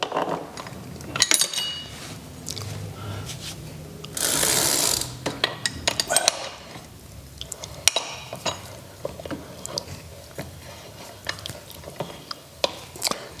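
A wrench works the pedal off a Juiced Hyper Scorpion e-bike crank, giving sharp metallic clicks and ratcheting ticks at an irregular pace, with a brief harsh grinding burst partway through. The sounds are close and there is no speech.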